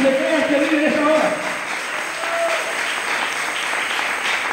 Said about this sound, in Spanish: Denle esas palmas si le crean que vive en esa hora